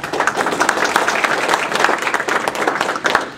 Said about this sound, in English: I'll ask once again that you please hold your applause till the end